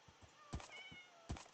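A faint cat meows briefly amid a few soft thumps in Minecraft, quiet and short against low background hum.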